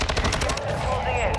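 A quick burst of rapid automatic gunfire in a multiplayer shooter, several close, loud shots in the first half second, followed by a ringing tail and game background.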